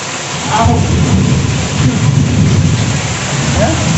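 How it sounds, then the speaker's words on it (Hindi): Heavy stormy rain pours down outside in a steady, loud broadband roar, with low thunder rumbling underneath throughout. "अभी बहुत सारी तूफानी बारिश आ चुके बाहर"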